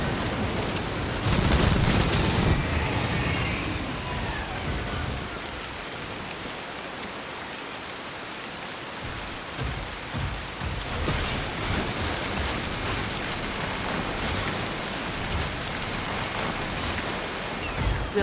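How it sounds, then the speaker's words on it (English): Heavy rain in the video game Synduality: Echo of Ada, a dense, loud, continuous roar of downpour with gusting surges and patter, steady throughout with no voices. "Find cover from the rain on the double."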